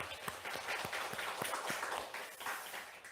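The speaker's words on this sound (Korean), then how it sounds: "예한군이 더욱 건강하고 하늘 부모님의 정말 효자로 이렇게 잘 성장할 수 있도록 우리 큰 박수를 한번 보내주시면 좋겠습니다" A congregation at a church worship service gives brief applause, a soft, scattered patter of hand claps heard at some distance and fairly faint.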